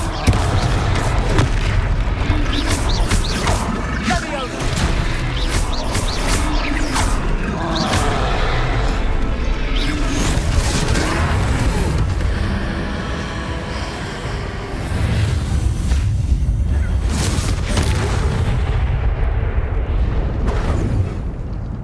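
Repeated spell blasts from Confringo in the Hogwarts Legacy video game, booming explosive bursts layered over a dense game soundtrack and continuous effects, loud and steady throughout with a brief dip midway.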